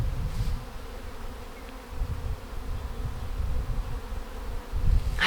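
Bees buzzing steadily inside a garden high tunnel, a continuous low drone that swells and fades as insects pass close by, with no talking.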